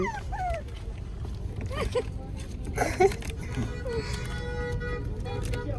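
A dog whimpers and yips in short high whines, close by, over a steady low background rumble.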